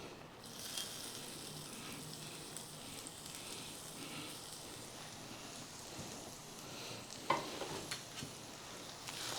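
Onion sizzling in hot oil in a pan for a Chettinad chicken curry, a steady soft crackle with occasional stirring scrapes, close and fairly quiet, no talking.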